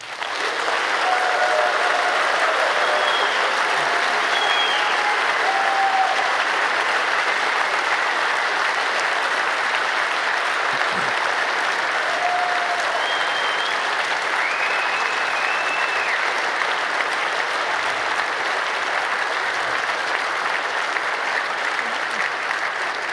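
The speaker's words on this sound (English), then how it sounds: "I want a really big round of applause for them" A big hall crowd at the 28c3 closing event gives long, dense, even applause for more than twenty seconds, with scattered cheers and whistles rising above the clapping.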